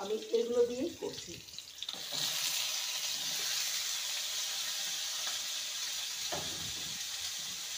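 Mixed vegetables, including cauliflower, frying in a pan for sago khichdi give a steady, close sizzle and hiss that holds evenly after a brief burst of louder clatter at the start.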